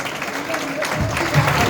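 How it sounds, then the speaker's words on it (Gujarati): An audience at a temple anniversary celebration in Lilapur applauds a prize presentation, with dense, steady clapping from a crowd that builds slightly toward the end. "આપણે સૌ તાળીઓથી વધાવીશું."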